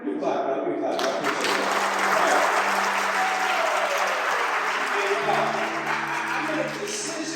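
An audience at an inspirational speech breaks into steady applause, a broad dense patter of many hands lasting several seconds with some voices mixed in, fading slightly as a speaker's voice returns at the end.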